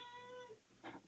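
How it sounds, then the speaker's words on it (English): A cat meows twice, a drawn-out tonal cry followed by a short, breathier meow, fairly faint and close by with no talking. "that's my cat meowing for some reason"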